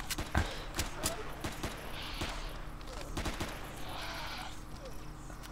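Gunfire in the video game Empyrion, with sharp shots and short bursts scattered across the clip over a busy background of game noise, with a voice speaking in between.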